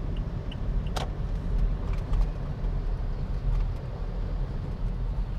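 Steady low road rumble from inside a moving MPV hauling a 300 kg load in Manila traffic near EDSA, with faint rattles and a brief knock, no talk.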